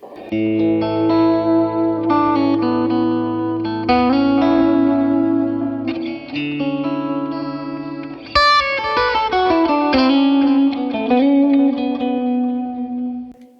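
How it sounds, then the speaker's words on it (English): An electric guitar played through a PRS Archon 50-watt amp on a gainy channel with the volume turned down and some echo: sustained chords and single notes ringing with light grit and trailing repeats, alone with no talking. "get on a gainy channel and turn your volume down a little bit and get a little bit of echo"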